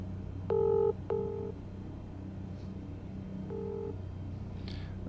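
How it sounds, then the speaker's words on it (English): Two short multi-tone phone signals sound in quick succession, then a third, over a steady low engine drone inside a Cessna 172SP in a flight simulator, with no talking. "That's some random ringing phone"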